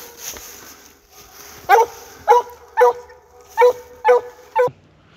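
A coonhound bays at a raccoon it has treed, giving six loud, evenly spaced barks over about three seconds, with softer whines and background noise before them.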